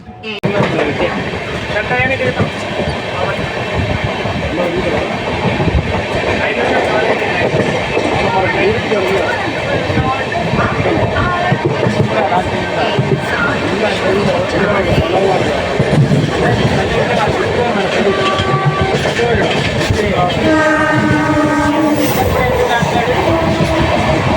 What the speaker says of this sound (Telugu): Cherlapally Thiruvananthapuram north Amrit Bharat express.